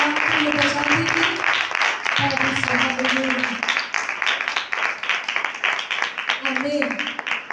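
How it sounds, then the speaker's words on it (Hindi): Church congregation breaking into loud, sustained applause, a dense wash of clapping that runs throughout beneath a voice speaking over it. "एक बार जोरदार तालियां खुदा के खादिम के लिए और खुदा के कलाम के लिए बजाने की।"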